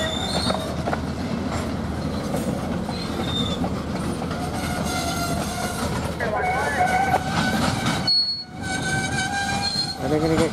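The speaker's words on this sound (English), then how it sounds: "You really hear 9450's EMD 645 going out there." CN freight train with an EMD 645 diesel locomotive passing nearby, its engine rumbling under rolling wheel clatter and squealing, with a short horn-like tone and faint voices.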